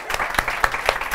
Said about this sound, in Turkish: Alkışlayalım hanımefendi